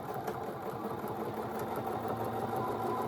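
A sewing machine stitches a small appliqué wall-hanging quilt, running in a continuous, even mechanical whir with no pauses, close and moderately loud.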